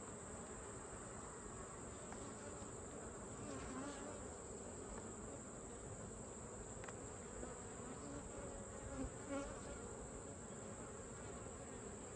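Honey bees buzz steadily in an opened hive during a late-summer inspection, a dense continuous hum close by with small swells and no talk over it.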